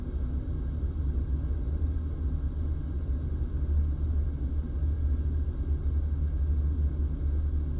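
Reverse thrust from a Boeing 777-200LR landing in a flight simulator game, heard as a continuous deep, dense rumble that holds steady and fairly loud throughout.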